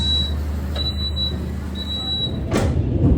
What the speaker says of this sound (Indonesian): Tutup otomatis.